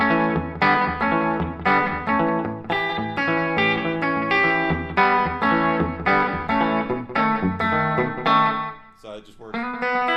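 An electric guitar played through a rockabilly slapback echo pedal, with a rhythmic run of distorted chords and single notes each followed by a short quick repeat, loud and close, with no talking.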